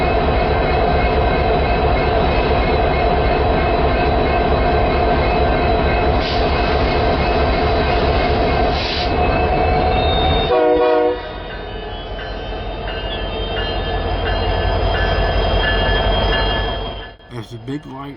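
A Santa train rolls eastbound at night toward a rail yard, a loud, steady rumble of wheels and engine close by with faint horn-like tones; the roar cuts off sharply near the end, then builds again.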